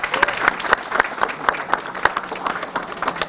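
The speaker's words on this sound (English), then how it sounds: "Everybody please give him a round of applause." Audience applause for a member of Parliament at a Vaisakhi celebration on Parliament Hill in Ottawa, steady, fairly close clapping with distinct individual claps standing out in a rhythmic pattern.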